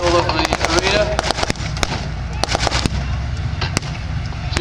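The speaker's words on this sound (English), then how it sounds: "on the far side of the arenas taking some incoming artillery" Sharp cracks and pops of staged artillery fire at a Yorkshire wartime reenactment arena, rapid irregular bangs at mid distance over steady crowd noise while a voice talks.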